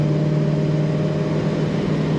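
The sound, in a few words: 1965 Chevrolet Chevelle Malibu SS engine running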